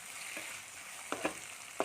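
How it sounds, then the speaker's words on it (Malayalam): Tomato frying for a baby potato biriyani gives a faint, soft sizzle in a pan, with a few sharp scraping stirs near the end and no talking. "തക്കാളി ഇളക്കി കൊടുക്കാം"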